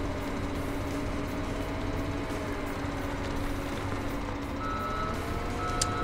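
A reversing alarm beeps steadily and continuously over a constant engine drone from a farm vehicle in Farming Simulator 2017.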